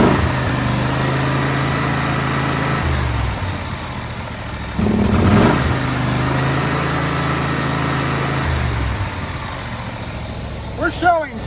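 Kawasaki FH721V V-twin engine, about 25 horsepower, on a John Deere X500 garden tractor with a 54-inch deck, idling steadily with a brief rise in revs midway, close and loud, with a voice heard briefly over it.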